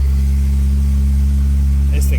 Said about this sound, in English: Oh, the turbos are sounding nice and saucy